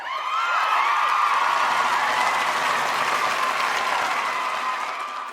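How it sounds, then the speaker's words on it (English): Studio audience applauds a podcast guest, the founder of Proactive Parenting, with steady, loud clapping and a few cheers sustained for about five seconds, then easing slightly at the end. "thank you for that applause"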